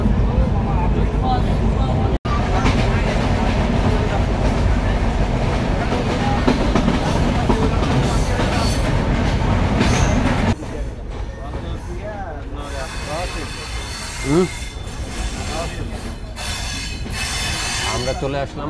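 The Drotojan Express on the Panchagarh–Dhaka route rumbles loudly over the rails with clattering wheels, then the roar drops to a quieter rolling clack with squealing wheels for the remaining seconds.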